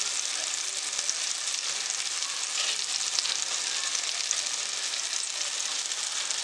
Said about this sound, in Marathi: अशा आपण सर्व पीसेस टाकून एका साईडने छान असे खरपूस भाजून बघूया।